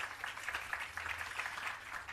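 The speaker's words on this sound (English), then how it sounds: "Another round of applause for Dr. Gooden." Audience applause at a Bureau of Standards Jamaica public relations campaign launch, a steady wash of many hands clapping together, moderately distant and fairly quiet, with no talk over it.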